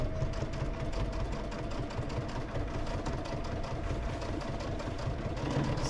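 A sewing machine back stitches a thick tote seam set to a 2.5 stitch length, giving a steady, quiet mechanical whirring and rapid ticking that runs without a break.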